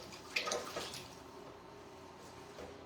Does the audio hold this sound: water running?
yes